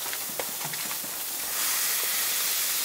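An onion burger with half an onion piled on is pressed flat onto a hot Weber Summit plancha, giving a steady broadband sizzle and hiss that swells louder partway through and carries on without talk.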